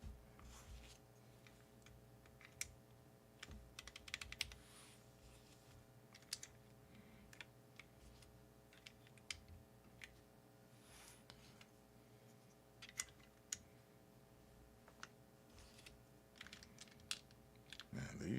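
Quiet, sparse clacks from typing on a mechanical keyboard with deep-sounding keycaps, with irregular keystrokes scattered across a faint background hum and occasional brief bursts of faster typing.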